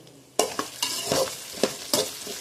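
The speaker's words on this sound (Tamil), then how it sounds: "இப்போது நான் வந்து கடாயில் எண்ணெய் ஊற்றிட்டு வெங்காயம், தக்காளி, முருங்கைக்காய், கத்திரிக்காய், உருளைக்கிழங்கு போட்டு வதக்கின்னு இருக்கேன் பாருங்கள்." Onion, tomato, drumstick, eggplant and potato sauté in oil in a kadai, close and loud, with repeated rhythmic scraping stirs over a continuous sizzle.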